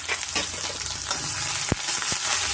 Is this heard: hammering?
no